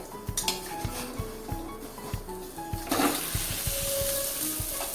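Bottle gourd handvo gets flipped in a pan, heard as a run of near metallic clinks and taps of a utensil against the pan, then a brief louder scrape and a soft sizzle as the batter settles.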